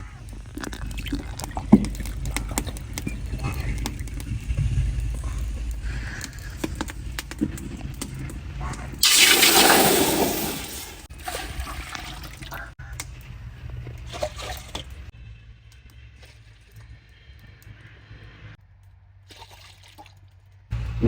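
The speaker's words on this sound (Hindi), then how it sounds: "गन्ने का रस मैंने इस देजके में डाल लिया है।" Sugarcane juice poured from a vessel into a cooking pot on a stove for kheer, a broad rushing splash lasting a few seconds, with someone talking before and after it over faint kitchen background.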